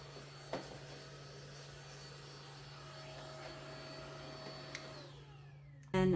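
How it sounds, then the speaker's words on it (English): A vacuum cleaner fitted with an attachment hums steadily while cleaning inside a Glowforge Aura laser cutter, a constant close whine with a couple of brief knocks, then a louder burst at the very end. "I'm just gonna go ahead and vacuum everything up"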